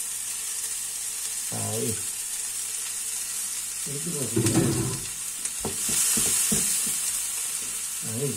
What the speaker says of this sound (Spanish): Ahí, que se vaya pochando la cebollita